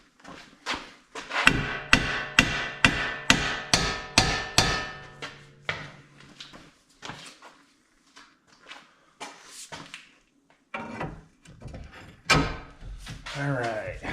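Hammer blows ring out on a steel steering knuckle assembly during ball joint replacement on a 2008-2014 Dodge Avenger or Chrysler Sebring/200: a quick run of about nine sharp metallic strikes, then scattered knocks and clanks from the work.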